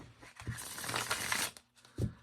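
A tarot card deck is shuffled by hand, giving a soft, papery riffling rush that swells and fades, then a short pause and a brief final tap of cards settling.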